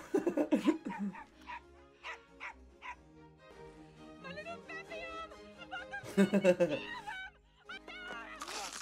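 Dogs in a room yip, whimper and bark in short bursts, mixed with a film soundtrack of music and dialogue playing nearby.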